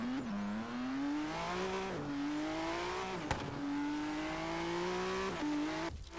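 A modded Ford GT engine in Forza Horizon 3 drones at high revs while the car pulls a wheelie, its pitch climbing steadily through several gear shifts with brief dips and a short sharp knock midway.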